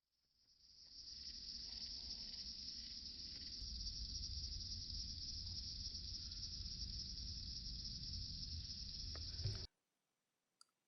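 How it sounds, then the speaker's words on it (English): A grasshopper outdoors gives a continuous high, dry buzzing trill, faint but steady for several seconds before cutting off abruptly. "Grasshopper."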